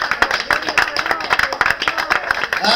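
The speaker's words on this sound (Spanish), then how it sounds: "Entonces aplaudirle fuerte a Jesús esta mañana." A church congregation claps loudly in a fast steady rhythm during a Spanish-language service, close and continuous, with voices calling out over the clapping.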